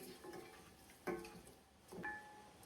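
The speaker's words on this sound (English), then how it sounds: "Give them a stir." Whole flaxseed being stirred in water in a pan, with a few soft scrapes and knocks of a utensil against the pan, quiet and close.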